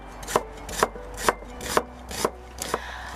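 A knife slicing a Spanish onion on a chopping board, seven crisp evenly spaced chops in a steady rhythm, close and clear, no voices.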